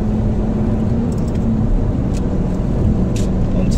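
A car drives onto a motorway, its engine and road rumble a steady, loud, close wash that holds without a break from start to end.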